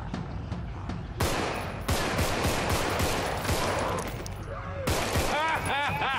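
Rapid bursts of gunfire in the zombie video game Contagion, dense volleys of sharp shots rattling close and loud, pausing briefly, with a player's excited voice over the top.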